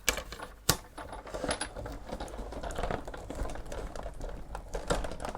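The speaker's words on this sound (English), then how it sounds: "I'm going to die cut the entire piece here" A die cutting machine runs a sheet of metallic silver paper through its rollers, producing a steady close mechanical whir and rattle with a couple of sharp clicks near the start and end.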